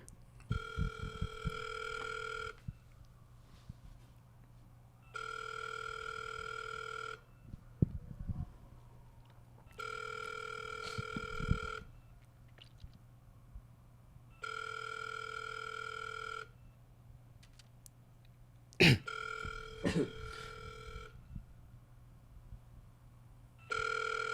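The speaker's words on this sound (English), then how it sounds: "I can't wait for him to pick up the phone." A telephone rings out on a call, repeated double-burst ring tones in an even cadence with silent gaps between them, loud and close, with a couple of sharp clicks near the end.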